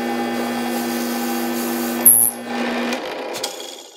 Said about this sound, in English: And now I can drill that.